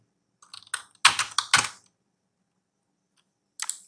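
Typing on a computer keyboard during a CSS coding session, a short burst of quick close keystrokes followed by a pause and a single brief tap near the end.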